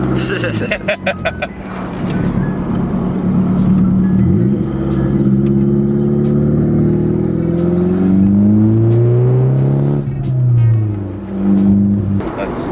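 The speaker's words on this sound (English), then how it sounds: "We're gonna go ahead and drift over here." An SR20-swapped Nissan 240SX drifts, its engine rising and falling through loud revs with sustained, close exhaust drone and tire noise over roughly twelve seconds, while occupants talk over it inside the car.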